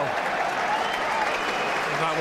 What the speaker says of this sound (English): Gets round applause from the City fans.